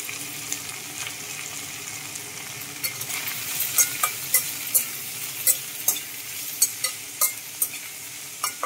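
Turmeric and salt are stirred into curry in a pan, with a low sizzle underneath and regular sharp scrapes of the spoon against the pan that grow more frequent toward the end.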